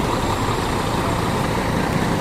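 A bus maneuvers into position in front of the ticket counters at a bus terminal, its engine giving a loud, steady, close diesel rumble that continues unbroken.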